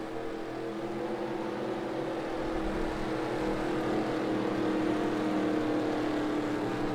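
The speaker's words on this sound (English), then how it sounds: "Pace car pulls in." As the pace car pulls in during a race at Columbia Speedway, engines give a steady, continuous drone that holds at an even level with a slight swell. Nobody speaks.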